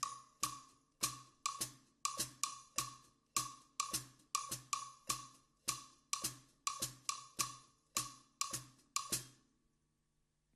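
An Afro-Cuban drum kit groove plays a clave pattern in 6/8 time, crisp woody clicks and hi-hat ticks repeating in a lilting triple-feel cycle, close and unaccompanied, stopping cleanly near the end.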